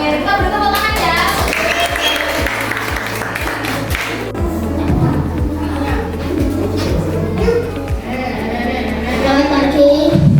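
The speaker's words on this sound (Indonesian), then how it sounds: "Kita beri tepuk tangan ya." A classroom of fourth-grade primary school children clapping after a class presentation, a scattered round of applause under a steady low hum and room noise, with children's voices in the background.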